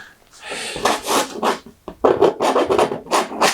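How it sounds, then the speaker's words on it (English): A palette knife scraping paint across a canvas while painting a landscape, loud rasping strokes up close, coming in several bursts with brief gaps between them. "Excuse the horrible scraping noise."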